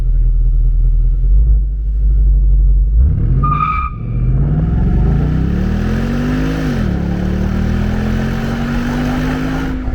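Ford 5.0 Mustang V8 at idle with a deep rumbling exhaust, then revved hard in a rising roar, dipping and climbing again as the engine pulls through higher revs, loud and close.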